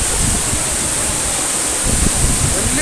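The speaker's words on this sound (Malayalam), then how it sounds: "വലിയൊരു വെള്ളച്ചാട്ടമാണ്" A large waterfall deep in a Kerala forest roars as a steady, loud broadband rush of falling water, continuous and close throughout.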